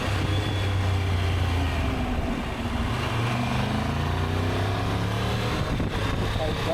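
Motorcycle engine droning steadily at speed during a long early-morning highway ride from Rio de Janeiro to Curitiba, with heavy wind rush throughout and faint talking underneath.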